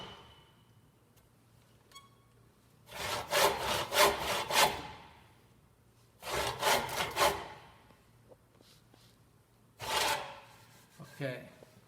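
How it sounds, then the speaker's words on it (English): A hand saw crosscuts wood in three separate bursts of rhythmic rasping strokes. Each burst lasts a second or two, with quiet pauses between, and soft talk is heard at times. "I'm not pushing down on the saw, I'm just letting the saw do its cut."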